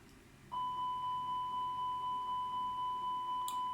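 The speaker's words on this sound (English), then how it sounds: "Check that the fire alarm works." Steady electronic tone of an A320 fire test alarm in Microsoft Flight Simulator 2020, switching on after a moment and sounding continuously with faint pulsing, clear and alone with no talk.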